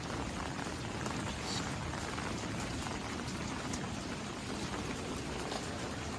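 Steady rain pours down on front and back yards, a dense continuous patter and hiss that holds at an even level throughout with no talking.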